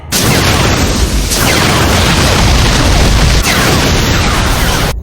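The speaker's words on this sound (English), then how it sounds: "Fire main cannons!" Loud, sustained roaring blasts with booming bursts pile into a continuous barrage of spaceship main cannon fire.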